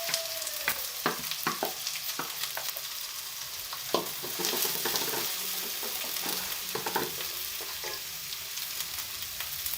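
Half a kilo of chopped onions frying lightly in ghee for mutton keema, a steady close sizzle broken by scraping stirs and clinks of a spoon against the pan.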